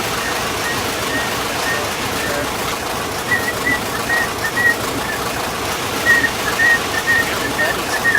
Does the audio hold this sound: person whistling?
yes